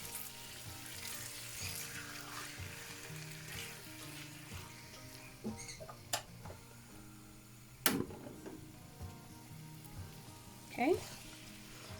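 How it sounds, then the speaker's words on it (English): Yakisoba sauce sizzles and fries in a hot cast iron pan: a low, steady crackle with occasional clinks and scrapes from stirring, and a brief word spoken at the start. "then throw the sauce in, because my pan will not cool very quickly"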